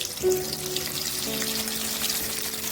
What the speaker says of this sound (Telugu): ఆయిల్ వేడైన తర్వాత కాకరకాయలు దూరంగా బాగా వేయించుకోవాలి